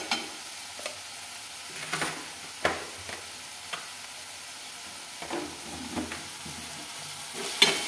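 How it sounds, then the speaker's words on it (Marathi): Red chili powder, garam masala, turmeric and coriander powder roast in oil for a brinjal (eggplant) curry. A faint, steady sizzle runs throughout, broken by soft intermittent stirring scrapes. "आपल्याला मसाला चांगला तेल सुटेपर्यंत भाजून घ्यायचं आहे."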